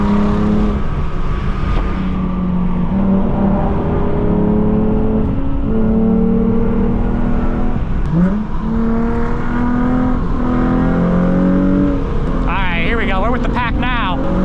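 Engine drone of a Lexus IS 350 with the 2GR V6 cruising on a highway in a large car rally, a steady loud hum throughout, with people talking over it and a brief chirping sound near the end.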